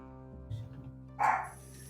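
A pet dog lets out two short barks indoors, a low gruff woof followed by a sharper, higher yip, close and fairly loud against a quiet background with a faint steady hum.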